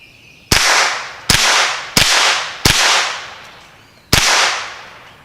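Five sharp .22LR rifle shots from CCI AR Tactical ammunition crack out at uneven intervals, each loud report trailing into a brief outdoor decay, with no voices between them.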